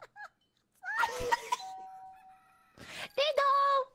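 Video game doorbell ding-dong chimes: two-tone electronic notes ring out amid talking and laughter, with a sustained tone in the middle and another bright chime toward the end, close and fairly loud.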